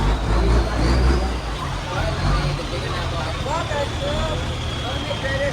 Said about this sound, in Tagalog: Sensya medyo maingay na madaming truck kasi dito.